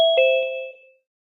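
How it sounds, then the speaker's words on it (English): An alert bell in a trading live stream rings once, a clear near ding with a second strike just after, both ringing out and decaying to silence within a second. "Who do we have here ringing the bell?"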